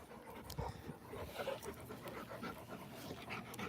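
A dog pants steadily and rapidly close by, a continuous breathy rhythm with no speech over it.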